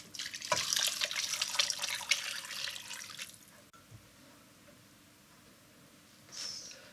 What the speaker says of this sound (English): And in goes the stock now.